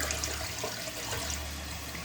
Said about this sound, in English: that was enough to flush the toilet